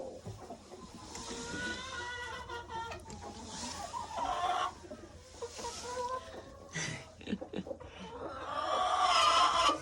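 Ameraucana hens clucking in a coop, soft irregular clucks and throaty murmurs from several birds close by, rising in a louder burst of clucking near the end.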